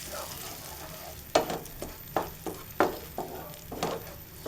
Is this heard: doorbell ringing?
no